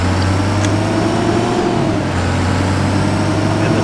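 A Thomas Saf-T-Liner C2 school bus is driven in the Rigs of Rods driving game. The engine drones in a steady, loud, low hum that stays fairly even throughout, with no talking.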